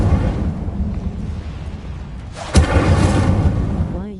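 A fire spell, Incendio, cast in the wizarding game Hogwarts Legacy, bursts out as one sharp whooshing blast partway through, over a steady low rumble of game ambience.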